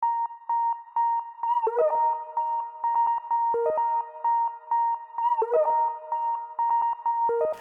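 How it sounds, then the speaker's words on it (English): A dusty-record style synth melody from the Alchemy synth, processed with Effectrix stutter effects, plays a bright repeating line in a trap beat, with sustained tones broken by choppy gated repeats and pitch drops. "So I went and found this Dusty Record synth that I found in Alchemy."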